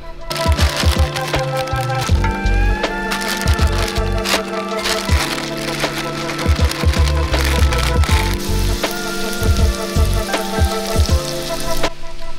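Food fries at low heat in a pan at a mountain campsite, giving a loud steady sizzle with frequent clatters, knocks and scraping from a utensil throughout.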